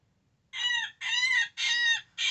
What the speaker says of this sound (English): Here is the woodpecker.